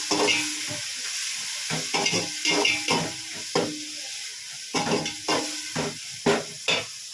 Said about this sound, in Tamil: போட்டுட்டு அதை நல்லா வதக்கி விடணும்.